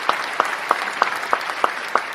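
Crowd claps in a steady, evenly spaced rhythm, about seven sharp claps in quick succession, fairly loud and close with no talk over them.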